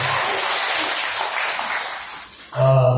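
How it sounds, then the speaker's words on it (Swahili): Applause from a church congregation at a child dedication service, a steady crowd of hands sounding throughout before a voice begins speaking near the end. "tuwapigie makofi mazuri"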